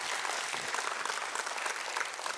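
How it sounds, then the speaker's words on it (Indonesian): A worship congregation breaks into dense, continuous applause for Jesus, a bright steady roar of many hands clapping together with no speech over it. "Mari kita tepuk tangan dulu untuk Tuhan Yesus."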